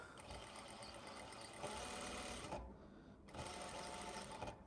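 A sewing machine runs steadily stitching a silk blazer, its close, loud whir pausing briefly midway before resuming at a constant pace.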